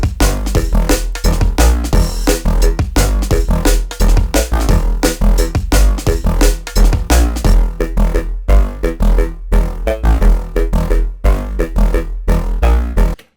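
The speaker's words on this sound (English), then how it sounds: "I've called this preset the Mushroom Forest," Serum 2 synth preset for psychedelic drum and bass, a dense, loud patch with driving rhythmic hits and sustained tonal layers that pulse steadily throughout, with brief gaps near the end.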